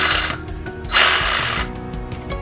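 A DeWalt DCS380B 20V MAX cordless reciprocating saw gives a short, loud, buzzing burst of running in the middle, framed by quieter mechanical handling noise before and after.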